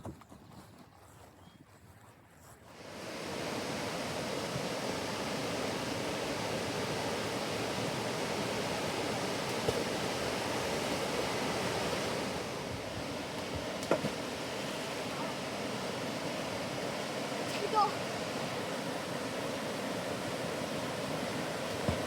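River water rushes and splashes in a steady, loud broadband wash that starts after about three seconds of near quiet and continues unbroken, with a few brief splashes standing out near the end.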